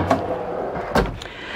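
A pull-out drawer in a 2020 Vanleigh Beacon 40 FLB RV slides on heavy-duty metal glides, giving a couple of short, close knocks and a brief sliding rush, alone in a quiet room.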